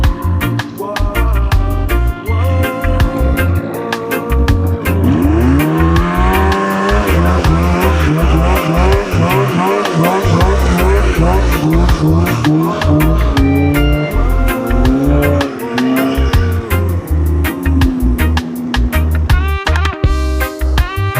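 Polaris UTV climbing a steep backcountry hill, its engine loud and close with rising and falling revs, continuous throughout under a heavy layer of rumble and clatter.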